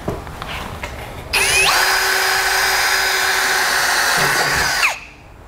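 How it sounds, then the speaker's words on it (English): A power drill bores holes through the front of a 2016 Ford F-150 while fitting a Blue Ox base plate, one steady high whine running about three and a half seconds before stopping, close and loud, with no talk. "So we'll drill up both these holes now."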